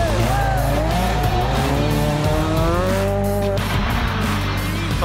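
A rally car at the Monte-Carlo rally, driven by Sébastien Ogier, roars past nearby, its engine climbing and shifting through revs with tyres squealing, the loud run continuous from start to finish.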